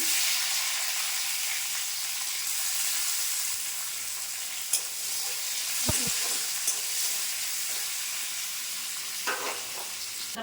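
Dried red chilli and chopped onion frying in hot oil in a Bengali home kitchen, a steady close sizzle with a few sharp scrapes and stirring knocks of a spatula against the pan.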